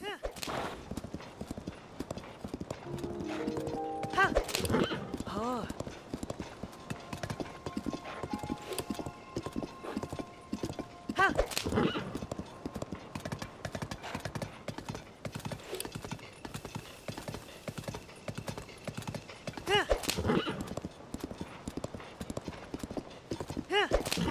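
A horse's hooves clip-clop steadily at a trot while riding in the video game Tears of the Kingdom, with an occasional whinny, all under continuous talking.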